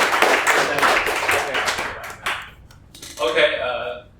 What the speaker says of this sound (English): Round of applause for KJ, everybody